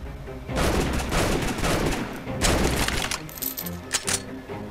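Rapid gunfire in the video game Strike Force Heroes 3: a loud, continuous burst of shots, followed by scattered bright metallic clinks and pops near the end.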